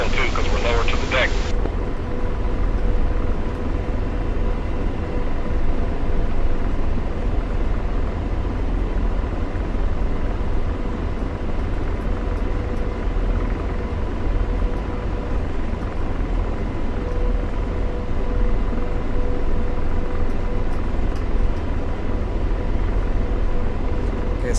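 An AH-64D Apache helicopter in DCS World gives a steady, loud, unbroken drone of turbine engine and rotor with a constant whine, flying low over Syrian terrain, while voices talk over the cockpit noise.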